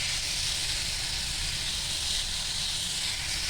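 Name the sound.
water heating to a boil with cardamom and salt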